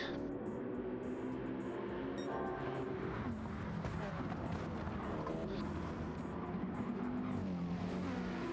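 Several Gran Turismo Gr.3 race cars battle on the Sardegna straight, engines roaring loud and continuous with shifting pitches as cars pass and close up in the draft, tyres squealing briefly, faint commentary underneath.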